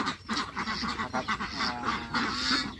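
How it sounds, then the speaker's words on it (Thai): Yi-Liang ducks on a duck farm in Roi Et, Thailand, giving a run of nasal quacks and honking calls, moderately close and fairly quiet, overlapping in quick succession. "เป็นเป็ดอี้เหลียง"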